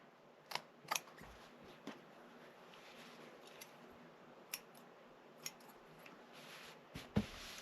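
Scissors snipping fabric beside zipper tape while sewing a diagonal zipper pouch: a handful of sharp, separate clicks spaced irregularly over quiet room tone, close and fairly soft, with no talking.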